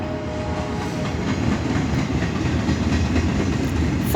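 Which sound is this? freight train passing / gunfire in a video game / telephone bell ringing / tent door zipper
freight train passing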